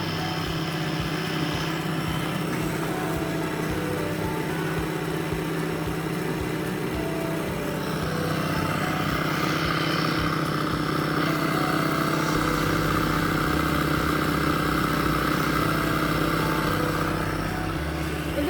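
Motor in a mechanical motion-sensor lab setup running steadily at about 1920 RPM: a constant, loud mechanical drone with a low hum and a slight shift partway through, with no voices.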